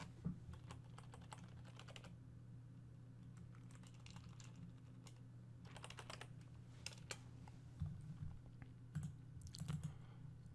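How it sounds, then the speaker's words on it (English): Steady, fast typing on a computer keyboard, with quiet clicks and occasional louder key presses over a low background hum, no voice. "and then we're going to type in the HTTP address."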